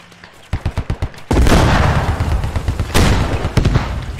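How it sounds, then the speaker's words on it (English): A tank round slams into front armor in the Squad war game, a loud heavy boom with a long rumbling tail, preceded by a quick run of sharp gunshot cracks and followed by further distant booms. "Shot on front armor with the tank."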